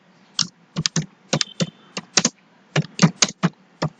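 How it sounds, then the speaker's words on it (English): A question typed on a computer keyboard, crisp close keystrokes arriving in quick irregular bursts with brief gaps, loud and clear with no talking over them. "So I'll just type one question also."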